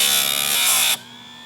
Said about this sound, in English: I'm gonna try to grind it a little bit more to get that tip sharp.